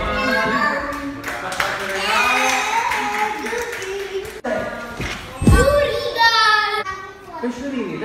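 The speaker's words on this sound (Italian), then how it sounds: "Facciamoci un applauso per Babbo Natale" Small children clap for Santa Claus at a swimming session for kids, scattered light clapping mixed with a voice and children's chatter, with bright echoing room tones.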